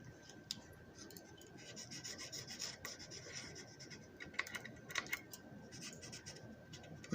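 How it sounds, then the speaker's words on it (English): A paint marker rubs and scratches steadily across a surface while the underside is coated black, a soft, close, continuous scraping with small clicks scattered throughout, quiet and without talking. "I'm using a paint marker."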